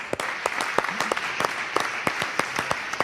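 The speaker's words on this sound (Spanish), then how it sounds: "un aplauso para Bernal" Audience applause for Bernal at an interview event, a short, moderately close burst of scattered clapping with distinct individual claps.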